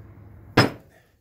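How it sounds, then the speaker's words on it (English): One sharp metallic hammer strike drives a nail through a lawn tractor hitch during a DIY repair, a single close, loud clank that rings briefly before fading. "Simply going to put a nail in it, and this nail"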